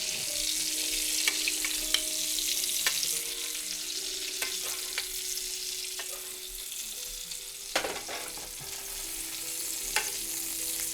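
Vegan meatballs fry in a tilted, basted pan, giving a continuous close sizzle with bursts of spattering and a few louder crackles, no voices.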